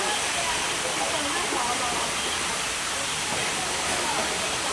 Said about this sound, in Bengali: ঝর্ণা রয়েছে